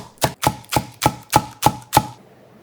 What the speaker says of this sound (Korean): 쪽파 2줄기 송송 썰어서